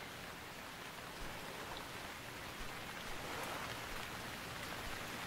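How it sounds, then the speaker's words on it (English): Steady, even rainfall in the video game Stranded Deep hisses across a surface, a dense wash of drops with a faint low rumble and no voices. "it's raining again"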